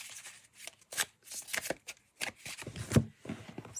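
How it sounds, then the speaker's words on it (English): A full-size tarot deck is overhand shuffled, producing quick bursts of soft papery flicks and slaps in an irregular rhythm, close and clear with no talking. "the card stock makes overhand shuffling a breeze"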